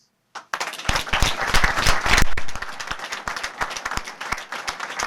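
Loud, sustained applause from a crowd at a memorial gathering honoring a deceased singer, dense clapping swelling over the first seconds then easing slightly while continuing steadily to the end.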